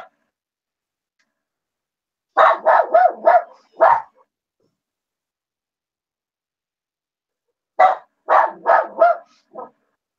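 Leto, a dog, barks in two separate clusters of four or five sharp, close barks each, with silence in between.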